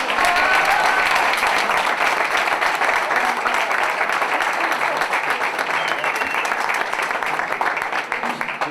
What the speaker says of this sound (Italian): Un super applauso ad Adriana